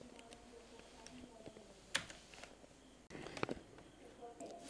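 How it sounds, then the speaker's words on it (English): Computer keyboard tapped at a desk while a command is entered in a virtual machine, a few sparse clicks and one sharper keystroke under quiet room noise, no voice. "type reboot and press enter"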